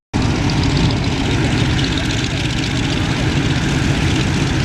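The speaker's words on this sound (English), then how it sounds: "There'll be my favorite, the Corsair, the F-4U" A Corsair F4U propeller aircraft at an Apple Valley airshow gives a loud, steady, close engine roar with a low throbbing drone throughout.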